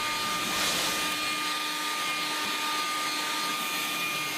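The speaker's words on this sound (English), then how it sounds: "I'll take the blower here and I'll blow out and do a final pass before we put the next block on" A blower roaring steadily as it clears debris from construction work with ICF blocks, a loud, constant close-up rush of air with no talking.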